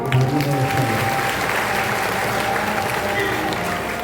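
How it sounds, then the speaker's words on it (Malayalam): A hall audience at a Bhagavatam festival applauds steadily for about four seconds, a dense, even wash of many hands clapping with a faint hum of voices underneath. "പ്രതിഭയ്ക്ക് നല്ലൊരു കയ്യടി കൊടുക്കും"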